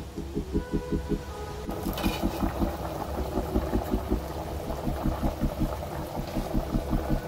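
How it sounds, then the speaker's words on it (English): A pot of Ilonggo-style pochero stew boiling steadily: rhythmic bubbling and gurgling pulses repeating through the whole stretch, close and continuous, with no talking. "simmer it until it boils for 15 minutes"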